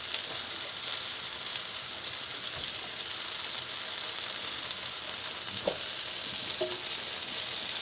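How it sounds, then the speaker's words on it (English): Mushroom and eggplant fry in a pan with a steady, close crackling sizzle and a few light stirring knocks, continuous throughout with no voices. "Now we're gonna add on the mushroom and the eggplant."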